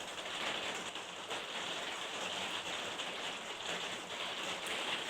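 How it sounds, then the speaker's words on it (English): Heavy rain pours down steadily, a dense hissing wash of drops on surfaces that stays close and constant throughout with slight swells, no voices. "It's starting to rain very heavily, and I think we're gonna hear that."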